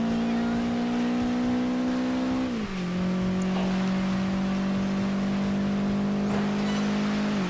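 Aston Martin 24 GT Zagato race car engine in Project Gotham Racing 4, a steady droning hum that dips in pitch as the car passes, then holds a smooth, sustained tone, loud and close.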